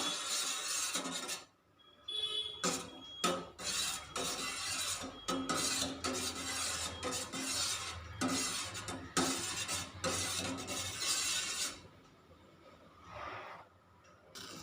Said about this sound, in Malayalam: അപ്പോൾ ഇങ്ങനെ ഇളക്കി കൊടുക്കാം